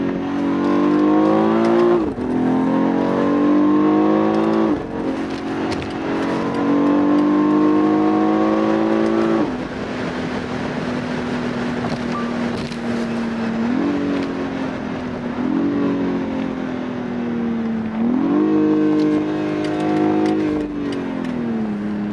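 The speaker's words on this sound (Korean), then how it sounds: "약간 두꺼운 그 배기음이 쭉 밀려나가는 것 같은 그런 느낌이 있는데" A BMW X4 M with a 510 hp engine revs hard while accelerating, its deep exhaust note climbing through repeated upshifts, each gear rising then dropping, loud and close, with no talk over it.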